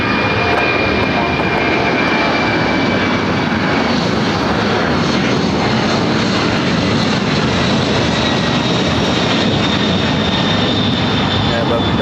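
ABX Air jet taking off from the south side of LAX, a steady broad engine roar that holds loud and constant throughout with a faint high whine on top.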